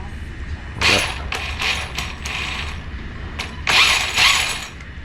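The steering servo on a Primal RC Raminator Gravedigger monster truck, just fitted with a HW Max4 combo, whirs and grinds in several short mechanical bursts, close and fairly loud, with pauses between the movements.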